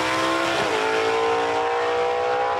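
A gasser drag race car makes a solo pass down the strip at a Southeast Gassers event in Reynolds, Georgia, its engine roaring loud and sustained at a high, steady pitch that shifts slightly as it pulls away.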